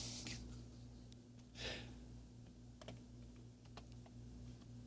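Quiet typing on a computer keyboard, scattered key clicks in an irregular rhythm over a steady electrical hum, with a soft breath or rustle partway through.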